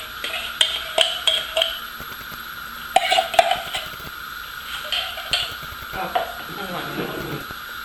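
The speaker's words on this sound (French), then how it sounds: "On va mélanger le tout comme ça." A palm nut juice mixture is stirred in a cooking pot, with soft scraping and clinking taps of a utensil against the pot coming in irregular bursts, fairly quiet.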